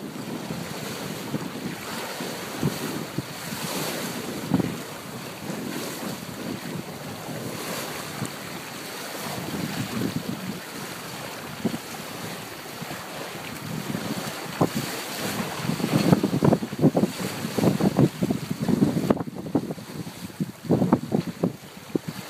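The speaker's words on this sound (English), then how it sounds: "Comes a bit of a gust right here." Wind gusting across a small sailboat sailed solo, with water sloshing against the hull and rushing wind noise on the microphone, swelling stronger in bursts toward the end.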